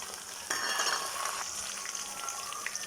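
Ground spice paste hitting hot oil in a pan after a light frying, a sudden loud sizzle that jumps up and then holds as a steady close crackle.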